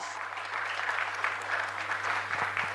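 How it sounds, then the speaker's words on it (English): A crowd at a Women Power panel event applauds steadily to welcome a panelist, a dense, even wash of clapping that holds at a moderate level from start to finish with no voices on top. "may we please have a huge round of applause for Pooja Bajaj"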